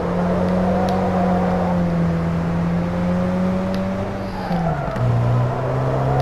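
Car engine in the racing game Wreckfest, revving loud and steady with a sustained tone that drops as it shifts gear, then climbs again.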